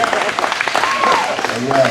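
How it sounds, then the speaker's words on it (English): An audience at a watch party claps in a brief round of applause, loud and dense, with voices and cheers mixed into the crowd noise. "Give a round of applause"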